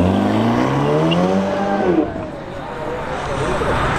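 A Ferrari F12 accelerates hard at a Ferrari tribute gathering in Padova. Its engine note climbs steeply for about two seconds, then gives way to a broad rushing road noise as it passes.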